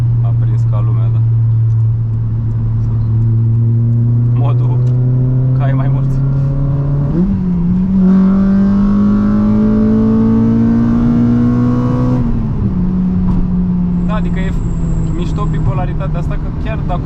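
A small Honda engine climbs steadily through the gears, revving up in long rising sweeps with brief dips at each shift, loud and close from inside the car while people talk over it.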